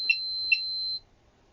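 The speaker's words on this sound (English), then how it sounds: "Continuity test. Yes, it beeps." Two short electronic beeps, then a steady high tone lasting nearly a second, from a Fluke ScopeMeter 123 or 192 on its continuity test. The beeps are loud and clean against near silence, and the tone cuts off abruptly.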